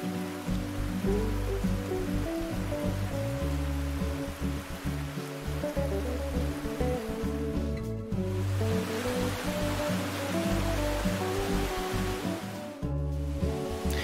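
Skalní Potok, a mountain stream in the Jeseník region, rushes steadily over rocky steps and small cascades, giving a loud, continuous broadband wash with only brief dips in level.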